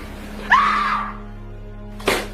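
A woman with a bruised face screams suddenly at home after picking up a ringing telephone, one sharp loud cry that fades, followed by a second brief burst moments later.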